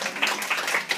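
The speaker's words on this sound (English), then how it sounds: "Give the man a clap" An audience at a Northern Rocks 2015 conference talk claps briefly, a soft steady patter of many hands heard from a distance in a large room.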